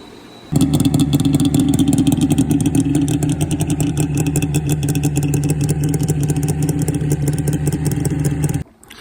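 A 1998 SRX 600 snowmobile engine starting up after its carburetors were cleaned, then running with a loud, rough, rapid two-stroke clatter for about eight seconds before abruptly cutting off.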